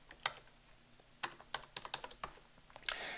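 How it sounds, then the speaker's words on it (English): Keys clacking on a computer keyboard as an assignment title is typed into a lesson plan, a dozen or so quick close strokes in irregular bursts, with no one talking. "type the text you want to show in your lesson plans"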